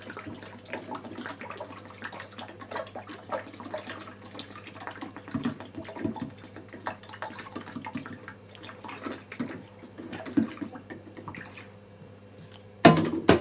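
Developer chemical being poured into a Lomo 16mm film developing tank, a steady trickle of liquid running on throughout with a low hum underneath, ending in a brief louder clatter.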